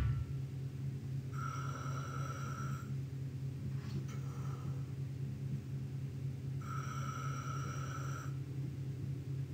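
An enemy in the Parasite Eve 2 video game breathes with labored, raspy effort, two drawn-out wheezing breaths over a low constant game rumble, with a faint crackle between them.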